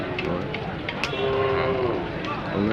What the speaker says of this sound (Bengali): দর্শক দেখুন তিনটি দেশাল জাতের কালো গরু চমৎকার